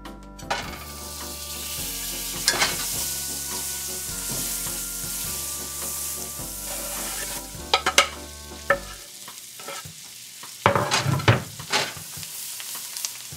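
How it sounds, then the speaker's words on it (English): Garlic and butter frying in a pan, with a steady close sizzle and repeated stirring scrapes and clinks of utensil against the pan, the sizzle dropping away near the end while a few sharper knocks follow. "Now we got some butter and garlic in the pan"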